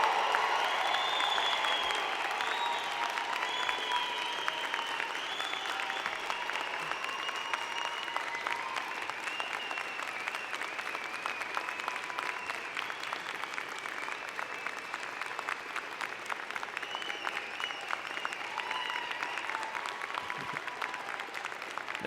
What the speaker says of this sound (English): join me in applauding the amazing graduating class of June